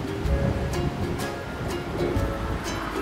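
Ocean waves wash steadily onto the beach at Topsail Island, North Carolina, a continuous broadband surf roar with gentle swells and some wind, close and fairly loud, with no talking.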